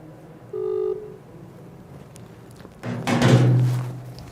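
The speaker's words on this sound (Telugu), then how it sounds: "మళ్ళీ ఒకసారి ప్రవీణ్కు ఫోన్ చేసే ప్రయత్నం చేద్దాం." Phone call being placed, with a brief tone near the start followed by a muffled thump and a louder burst of rustling handling noise, close and indoors with no talk.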